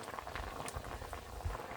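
Pieces of katkoi and parshe fish bubbling in a pot of boiling water, a steady close, busy simmer with soft pops and gurgles throughout and no talking.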